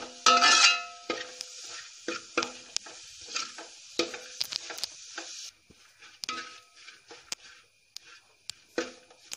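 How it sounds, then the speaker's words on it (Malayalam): A spoon stirs ginger-garlic paste and turmeric in a pan for kappa biriyani, giving repeated scraping strokes and clinks over a soft sizzle, louder at first and then in irregular close taps. "ഇനി ഈ അരപ്പിൻ്റെ പച്ചമറം മാറുന്ന വരെ നമുക്കൊന്ന് ഇളക്കി കൊടുക്കാം."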